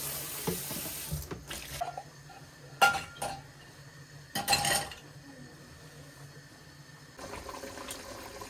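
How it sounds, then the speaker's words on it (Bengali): Dirty dishes being washed in a home kitchen sink, with running tap water, splashing and a few sharp clinks of plates and glasses, heard close and fairly quiet with no talking. "বাসন বের হয়েছে এগুলো ধুয়ে নিলাম।"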